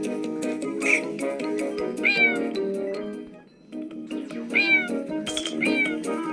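Several cats in a cat simulator video game meow repeatedly and close up, high wavering cries coming every second or two over a busy background of game sounds and music.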